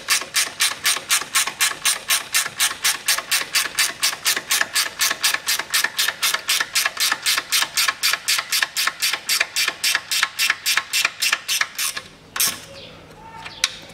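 Ratchet wrench tightening a bolt on a 2007 Toyota Camry XV40 2.5 front stabilizer link during a bushing swap, a fast, even run of loud clicks for about twelve seconds before stopping with a final clank.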